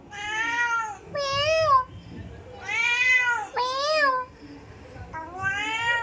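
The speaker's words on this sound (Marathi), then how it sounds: "माऊ बघ इकडे बघ" A cat meows about five times in quick succession, loud and close, each call a drawn-out rising-and-falling wail with brief pauses between, heard alone without talking.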